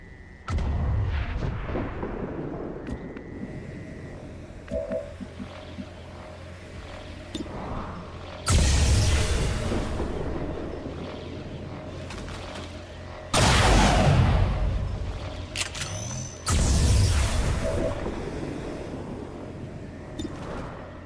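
Bursts of gunfire and heavy explosions during a battle in the video game XCOM 2: War of the Chosen, several loud blasts standing out over a lower rattle of shots.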